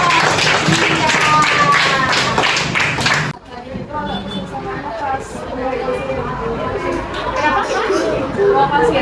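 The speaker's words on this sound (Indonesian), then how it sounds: "Boleh si Paul kita kasih aplaus dulu dong." Classroom of students claps for a student named Paul during a mathematics lesson, a brisk burst of many hands lasting about three seconds before it cuts off into a murmur of chatter and voices.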